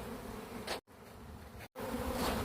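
Dense buzzing of many bees, steady and close, briefly cut off twice by short silences.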